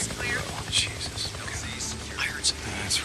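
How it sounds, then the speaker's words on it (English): A helicopter in the video game Days Gone makes a low, steady rotor drone, with someone talking quietly over it and sharp bursts of game noise scattered throughout. "Okay, so there's the helicopter."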